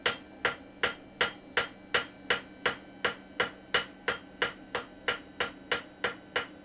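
Steady, evenly spaced hammer blows ring on hot metal while a harness hook is forged, about sixteen sharp close strikes at a regular pace over a faint background hum.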